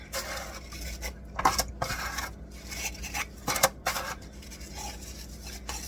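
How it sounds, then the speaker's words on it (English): Graham crackers laid into an 11 by 15 inch metal baking pan, with crisp scraping and tapping as pieces are placed and shifted, in uneven bursts at close range with no voices. "we're going to lay them in this pan here"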